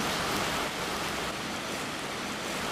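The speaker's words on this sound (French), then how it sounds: "La cascade est des plus importantes." A steady, broadband rushing of a cartoon waterfall of melted cheese pours continuously, loud and close, with no talking.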